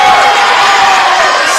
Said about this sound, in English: This crowd starting to come alive here at the Drubner.